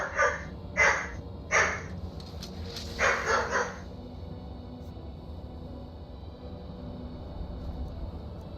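In the video game Skyrim, a dog gives about five short, sharp barks at moderate distance over a quiet ambient backdrop, then falls silent.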